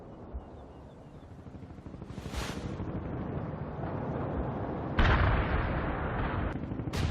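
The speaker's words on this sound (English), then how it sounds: "you must support him with artillery fire, Romanov" Artillery fire rumbling in the World in Conflict video game: a continuous low, roaring barrage with booming impacts, a sharp loud blast midway, and wind-like noise throughout, with no talking.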